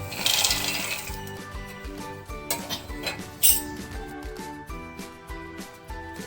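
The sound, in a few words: fried peanuts being put into mixer grinder jar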